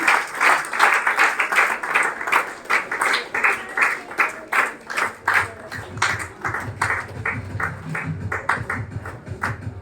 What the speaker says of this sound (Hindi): एक बार आप तालियों से हमारी मोनिका बहन का स्वागत करें